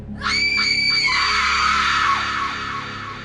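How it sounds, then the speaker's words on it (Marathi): A woman's long, loud, piercing scream for a horror story, rising sharply and holding steady for about two seconds before fading, heard alone. "अचानक ती महिला जोरात किंचाळली"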